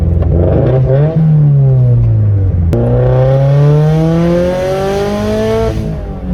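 Turbo Subaru BRZ with a Tomei 80R exhaust revs loud and close, engine note climbing in two rising sweeps with a brief drop between, deep droning tone throughout.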